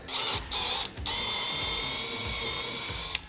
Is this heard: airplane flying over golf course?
no